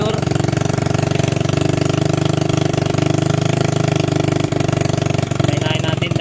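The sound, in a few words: motorcycle engine with noisy exhaust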